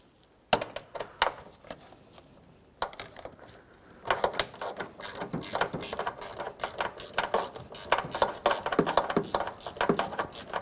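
A hand ratchet loosens a coolant reservoir mounting bolt on a 2004-2015 Nissan Titan, close, crisp clicking in quick bursts after a quiet start, growing busier and louder toward the end.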